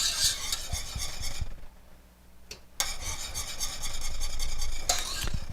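Thickening chocolate pie filling is stirred in a pot on the stove, a close rhythmic scraping and rubbing of a utensil against the pot that pauses briefly midway and then resumes, with no speech.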